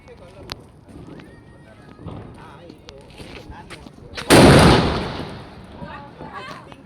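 A sutli bomb firecracker set off for Diwali: after a few seconds of scattered noises and voices, a single loud, close blast bursts out and fades in a decaying rumble.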